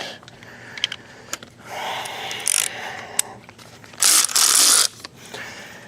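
Scattered metallic clicks and tool knocks accompany two short bursts of rapid ratcheting as a ratchet tightens the tensioner bolt on a Chevy V8 engine, close and fairly loud.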